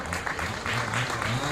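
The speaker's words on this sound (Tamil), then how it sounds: "அவர் ஒரு பலத்தை கைத்தட்ட கொடுங்க." Audience applause at a public gathering in Seremban, Malaysia: steady, dense clapping from a crowd fills the whole short stretch, with a voice carrying over it.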